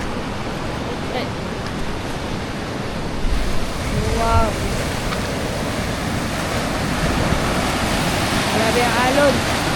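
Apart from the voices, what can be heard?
strong ocean waves crashing on the beach at Bacungan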